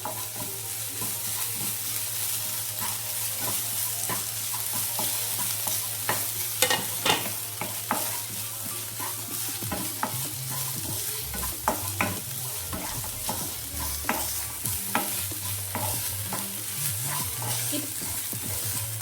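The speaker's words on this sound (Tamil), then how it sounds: "இஞ்சி பூண்டு பேஸ்ட் ஆட் பண்ணிக்கிறேன். இது கூடவே நான் கேஷ்யூவும் ஆட் பண்ணிக்கிறேன். இது நல்லா வதக்கி விட்டுக்கோங்க" Ginger garlic paste, cashews and onions sauté in hot oil, with continuous crackling sizzle, repeated spatula scrapes and knocks against the pan, and a low steady hum underneath, close up and without talk.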